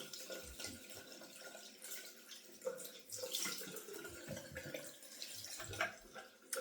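Tap water runs into a bathroom sink during face washing, a steady close splashing stream with small shifts and drips as hands move through it.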